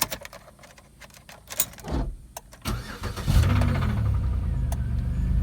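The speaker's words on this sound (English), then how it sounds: "she cranks right up" Clicks and rustling, then an engine cranks briefly and catches, settling into a steady rumbling idle nearby.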